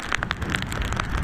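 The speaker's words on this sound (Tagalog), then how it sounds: "Lakas ng ulan" Heavy rain falls on a traditional net-fishing outing in the Philippines, a dense, steady patter of drops striking the surface, close and even, with no talk.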